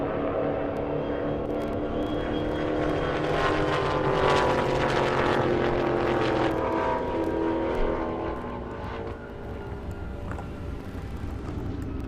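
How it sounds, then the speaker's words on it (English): A Dodge Hellcat's supercharger whines during a half-mile drag race at an airstrip, a distant sustained engine drone with rising tonal harmonics that fades after several seconds. "You can hear the Hellcat supercharger line from all the way over here."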